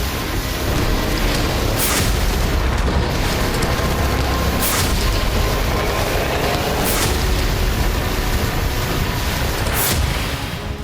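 Heavy artillery shelling in the Kursk war zone: a dense, loud, constant roar of rumbling booms with several sharp broadband blasts spaced a couple of seconds apart, no voices.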